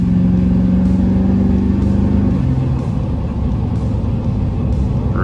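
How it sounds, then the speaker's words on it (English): A 2002 Chevy 2500HD Duramax diesel pickup with a muffler delete and exhaust tip gives a loud, deep, resonant rumble as it pulls away and accelerates, steady and close throughout, with no talking. "it's really just a muffler delete and a tip on there, but it's got a nice deep resonated tone"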